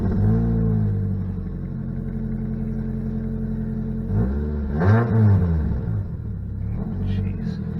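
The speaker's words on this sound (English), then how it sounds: "Have a major exhaust leak too" A Saturn Ion Redline's engine with a major exhaust leak rumbles at idle and then revs up loudly in short bursts, with a deep, raspy, blatting exhaust tone close by.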